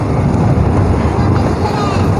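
A tractor rolls past on a rural road toward Mylavaram dam near Gandikota, giving a close, steady low engine rumble mixed with heavy wind buffeting.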